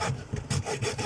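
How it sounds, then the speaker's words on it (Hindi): A saw blade slowly cutting open a capacitor by hand, four rhythmic rasping back-and-forth strokes, close and clear with nothing else heard. "आरी वाले ब्लेड के साथ मैं इसको आस्ता आस्ता काट रहा हूँ"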